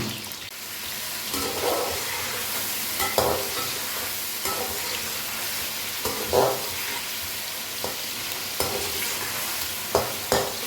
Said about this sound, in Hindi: घी गर्म हो चुका है, अब इसमें हम चिकन डालेंगे।